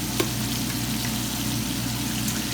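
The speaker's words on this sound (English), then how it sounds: "this is exactly how you want it to look like when it's frying, when you put it into the oil" Fish sizzling in hot oil in a pan, a steady close crackling fry that holds even throughout with one brief sharper pop near the start, no voices.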